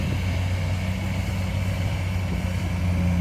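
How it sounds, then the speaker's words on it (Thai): A Kobelco SK200 excavator with a Hino four-cylinder diesel engine runs at a steady, low, even idle, heard up close and alone with no talk. "ตัวนี้ก็จะใช้เครื่องยนต์ ดีเซลครับ4สูบครับนะเครื่องยนต์ของฮีโน่ครับ"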